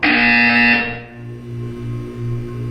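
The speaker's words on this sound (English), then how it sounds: "You will hear a buzzer." Loud electronic buzzer from the video game Portal 2, a single harsh sustained tone lasting under a second before cutting off, followed by a low pulsing hum.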